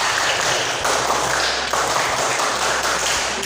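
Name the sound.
class doing the rhythmic scout clap 'tepuk pramuka'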